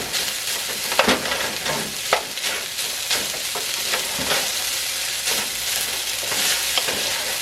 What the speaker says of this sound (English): So what I'm trying to do now is just warming it up and breaking it up as I go.